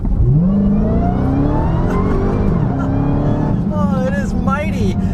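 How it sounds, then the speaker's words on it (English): A 2021 Dodge Charger Hellcat Redeye's supercharged 797-horsepower engine revs loud and close, its pitch climbing with a rising supercharger whine, while someone talks over the steady roar throughout. "One thing I love about this bigger Redeye supercharger is it whines even more than a regular Hellcat"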